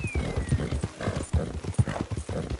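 Horse hooves clip-clop at a steady, rhythmic trot in a PS4 video game, fairly close and clear, with a brief whinny in the mix.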